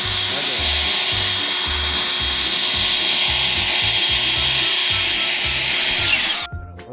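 A powerful snow blower roars steadily, blowing snow and sand, with a rough, rhythmic chugging underneath, close up and continuous before cutting off abruptly at the end.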